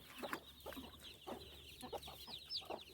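Domestic hens and their newly hatched chicks cluck and peep close by in a home yard, a steady run of short soft clucks with higher chick chirps, no talking.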